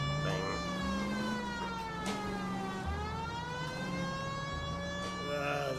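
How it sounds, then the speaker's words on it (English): Police car sirens wail in the video game LA Noire, rising and falling tones sweeping continuously over engine rumble, moderately loud throughout. "Turn on the sirens."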